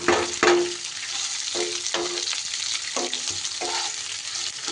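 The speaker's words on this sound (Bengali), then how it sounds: "পেঁয়াজটাকেও একটু ভাজা ভাজা করে নিতে হবে।" Onion fries in a pan for raw mango rice, giving a steady close sizzle with several soft stirring scrapes at irregular intervals.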